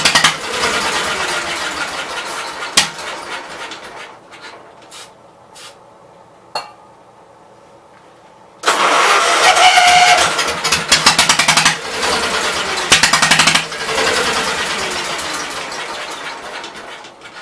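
A 1974 Case 220 tractor engine with a poorly sealing fuel line cranks and catches, sputtering briefly at first, then after a pause bursting into loud, steady running close by with no talk.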